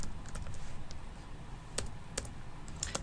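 Quick, uneven clicks of a computer keyboard as code comments are typed for a game tutorial, close and fairly quiet, alone with no voices.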